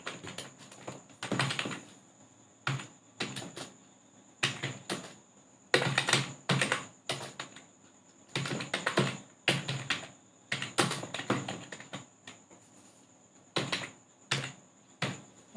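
Close, quiet typing on a computer keyboard while writing webpage code, coming in short bursts of clicking keystrokes separated by brief pauses.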